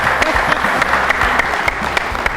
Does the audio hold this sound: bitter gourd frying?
no